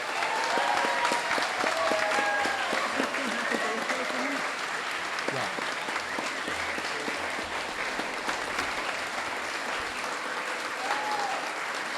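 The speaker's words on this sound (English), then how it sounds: "Another round of applause, please." An audience at a celebratory literary anniversary gathering gives sustained applause, a dense wash of many hands clapping at an even level for the whole stretch, with a few scattered voices and cheers mixed in.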